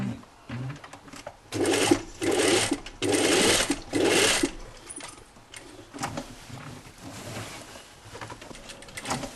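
Domestic sewing machine stitching a seam on a Brigand kit jacket, running in several steady bursts of a few seconds each with short pauses between, fairly close and clear, with a voice speaking briefly between runs.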